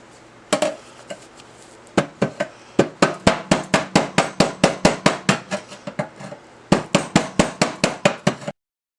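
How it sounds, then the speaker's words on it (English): A big hammer smacks a Russian steel ammunition tin (spam can) again and again, with sharp metallic clangs in quick rhythmic bursts, about two dozen blows with a short pause partway, loud and close. "I put on a glove and I just smack it with a big hammer"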